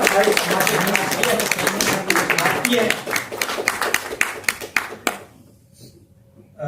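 Audience applause at a Hindi book launch ceremony, brisk clapping with some voices mixed in, thinning to a few isolated claps before fading into near silence.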